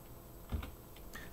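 Keystrokes on a computer keyboard while working in the vi text editor, a short cluster of a few taps near the middle, quiet and close, with no talking.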